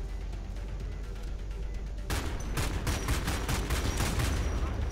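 Gunfire in the video game Homefront: The Revolution, with tanks present; steady background rumble gives way to a loud burst of rapid shots and blasts from about two seconds in.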